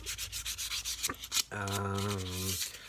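A carved wooden hand is sanded with quick rhythmic rubbing strokes, followed by a short tonal hum near the end, close and fairly quiet.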